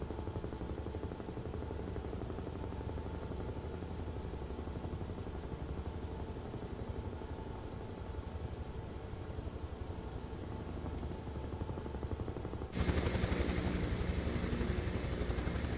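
A helicopter in Microsoft Flight Simulator 2024 gives off a steady, dense rotor and engine drone that runs unbroken, then turns brighter and louder near the end.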